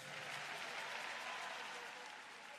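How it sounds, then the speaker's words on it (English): A large congregation claps steadily in a big arena during an evening church glory conference, a dense, even wash of applause with crowd murmur, sustained at moderate level throughout. "Give the Lord a big clap and a loud shout of praise."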